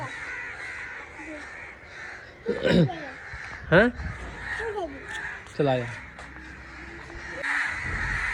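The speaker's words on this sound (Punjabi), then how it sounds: "ਇੰਨੇ ਕਾਂ ਕਿੱਥੋਂ ਆਏ" Many crows gathered over a village house caw loudly in repeated harsh bursts, several birds calling near and far while people talk and laugh.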